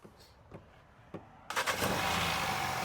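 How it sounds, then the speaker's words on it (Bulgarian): A car with a petrol TFSI engine gives a few faint clicks, then the engine starts abruptly and settles into a steady, fairly loud idle. "чуй как работи този двигател. Пали!"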